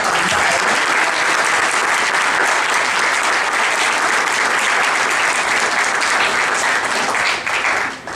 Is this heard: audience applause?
yes